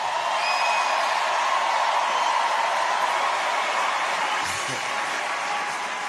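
Sustained applause and crowd noise from a comedy bar audience in Austin, a dense steady wash of clapping that carries on evenly and fairly loud, with a brief sharp bump near the end.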